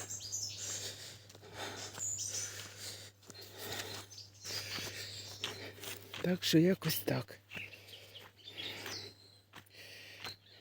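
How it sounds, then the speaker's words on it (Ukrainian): Birds chirp and tweet outdoors at a distance, with a brief louder burst of calls, while a person speaks quietly now and then. "На дворі пташки співають."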